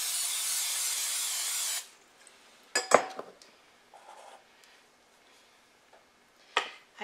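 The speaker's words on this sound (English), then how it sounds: "First, I'm going to spray this casserole dish." Cooking spray hisses onto a casserole dish in a kitchen in one loud, steady burst lasting a couple of seconds, followed by quiet clinks and light handling noises of the can and dish.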